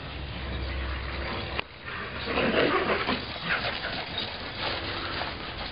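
Greyhounds dash around a yard, giving whimpers and excited yips over a rough rushing background, with a brief jolt early on and a busier stretch of movement and panting noises after it.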